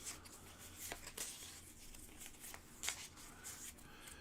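Playing cards are shuffled for the Fishing Lessons tabletop game, a faint close run of riffling flutters and soft slaps of cards being squared, quiet and intermittent.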